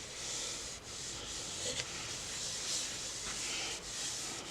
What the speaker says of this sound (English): You wipe off any excess after it's soaked up is all you're doing.